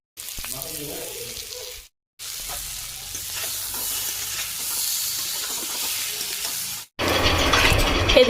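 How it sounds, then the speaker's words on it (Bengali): Bitter gourd and potato sliced and frying in a pan over a cooking fire, a close, steady crackling sizzle with stirring scrapes, broken by two brief cuts and ending in a louder burst of hiss. "উচ্ছে আলু ভাজা হচ্ছে।"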